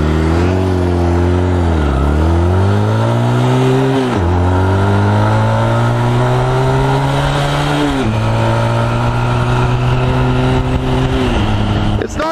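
Honda Rebel motorcycle engine revving repeatedly while the rider maneuvers and rolls backward, loud close throttle swells rising and falling in several surges over a steady idle rumble.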